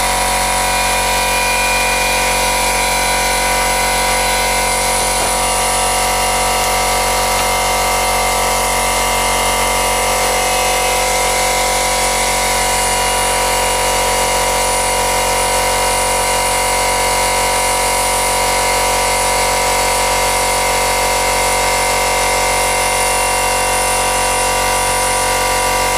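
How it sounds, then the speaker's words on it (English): An airbrush compressor runs steadily and loud, a continuous mechanical drone with a fixed hum that holds unchanged from start to finish, with no talking over it. "That was the compressor kicking in."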